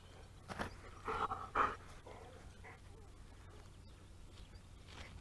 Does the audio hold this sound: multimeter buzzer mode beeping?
no